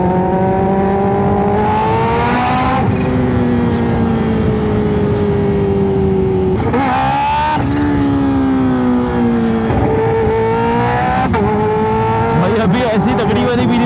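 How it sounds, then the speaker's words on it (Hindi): A Kawasaki Ninja H2 and a Ducati Streetfighter V4 ride together. Their engines give a loud, continuous multi-toned whine that climbs in pitch, then drops at each gear change through repeated acceleration runs. "हम यहाँ से निकल रहे हैं और आज हमारे साथ एक और बाइक भी जुड़ी है, डुकाटी स्ट्रीट फाइटर V4।"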